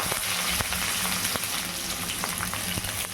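Onions and curry leaves fry in hot oil for pepper chicken, a steady close sizzle with faint crackles and occasional light pops throughout.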